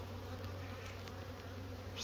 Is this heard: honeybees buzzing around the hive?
yes